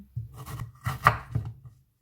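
A knife chops a very small onion on a board, a few close irregular cuts in quick succession before stopping.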